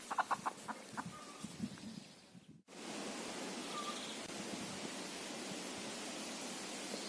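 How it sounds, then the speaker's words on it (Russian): A chicken at an abandoned village house clucks in a short burst of quick, moderately close calls, then the sound cuts to a steady outdoor hiss with only faint distant sounds. "Там курица ползает."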